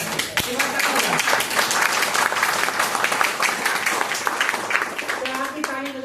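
A seminar audience gives a round of clapping, a busy, sustained patter of many hands close by, with a voice talking over and around the applause.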